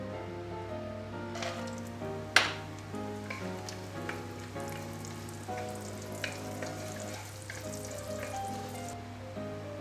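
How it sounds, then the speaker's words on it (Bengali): Bori lentil dumplings fry in oil left over from frying small fish, giving a steady close sizzle with crackles, light stirring and a sharp utensil clink partway through. "মাছ ভাজার তেলেই আমি রান্নাটা করব। বড়িটা এখন ভেজে নেব।"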